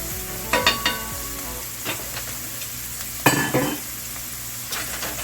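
Salmon frying in a pan, a soft continuous sizzle with scattered utensil clinks and scrapes, one sharper knock midway.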